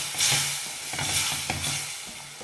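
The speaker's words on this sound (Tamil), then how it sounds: "சேர்த்துக்கிட்டு அந்த மிளகாயெல்லாம் நல்லா வதங்க விடலாம்." Chillies sautéing in oil in a pan while being stirred, a close steady sizzle broken by repeated scraping strokes of the spoon, with no talking.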